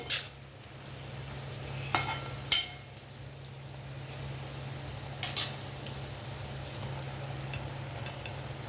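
Brinjals frying in masala in a pan, a low steady sizzle with a few sharp scrapes and clinks of a spoon stirring, close by and without talk.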